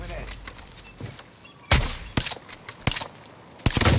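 Sniper gunfire in the video game Survival in Caldera: a few loud, sharp shots crack out at irregular moments over a busy game background, with players talking over it.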